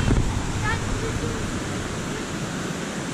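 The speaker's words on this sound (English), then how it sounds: "there's another waterfall down there" Waterfall in a wooded dene seen from above, a steady broadband rushing roar with wind buffeting, continuous and fairly loud.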